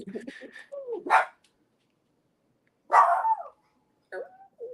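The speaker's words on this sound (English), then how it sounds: "Saint barking now." A dog named Saint barks in a few sharp, close bursts separated by silence, with short whiny yips and a faint voice between them.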